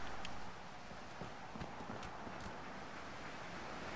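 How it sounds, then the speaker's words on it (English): Donkey hooves clip-clop in the video game Fallout 4, a few soft irregular hoofbeats under steady wind noise. "A donkey!"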